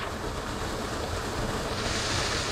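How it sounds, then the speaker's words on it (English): A waterfall in a Scottish forest near abandoned mansion remains, heard as a steady, close broadband rush of falling water with no voices. "Look at the waterfall."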